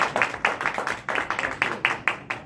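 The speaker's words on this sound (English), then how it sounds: "Give a round of applause." An audience at a talk gives a round of applause: steady, evenly spaced claps at a quick regular rhythm, fairly close and clear, with no voices over them.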